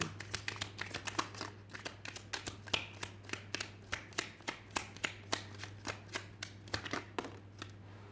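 Tarot cards are riffled and snapped in a quick, crisp series of close clicks and flicks, with a steady low hum running underneath.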